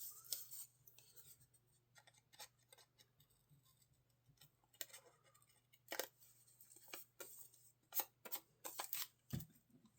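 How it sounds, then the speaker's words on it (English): Paper being cut with scissors, quiet snipping and crisp rustling in irregular bursts that get busier toward the end, close by. "I'll finish cutting up with my scissors"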